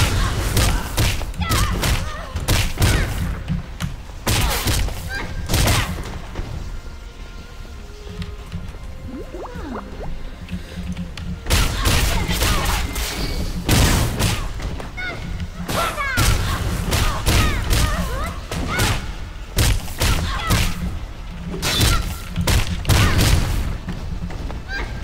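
Bomb blasts and combat in Blade & Soul: repeated heavy booming thuds and impacts, loud and close, recurring in clusters throughout the fight.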